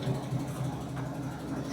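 A 1973 International Scout engine running after being started, a low, rough idle rumble with slight revving, steady and close for the whole clip.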